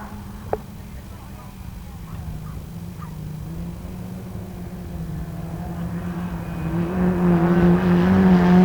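Autograss junior special race cars circle a dirt track, engines droning steadily at a distance and swelling louder toward the end as they approach, with commentary and crowd noise mixed in.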